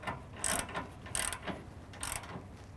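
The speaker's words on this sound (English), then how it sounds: "grab an 18 wrench and an 18 socket on a ratchet. And we're gonna start locking this guy down" A hand ratchet with an 18 mm socket snugs bolts on a Toyota Tundra rear bumper, three quick bursts of close, crisp clicking separated by short pauses.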